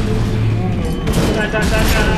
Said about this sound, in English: I shot the other one.